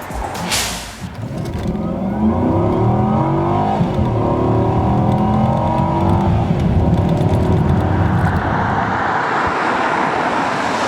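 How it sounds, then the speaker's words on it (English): Volvo S80 sedan with a 315-horsepower engine and all-wheel drive accelerating hard, its loud engine note climbing steadily through the revs with a continuous roar and rising whine, no talk. "This sedan can take pride in its excellent acceleration."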